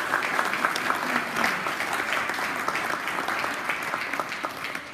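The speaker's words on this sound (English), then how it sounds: "So for Pan Klun, nice round of applause, please." Sustained audience applause fills a Ukrainian dance concert hall by the Barvinok Hamilton ensemble, a dense, steady wash of many hands clapping at even loudness throughout.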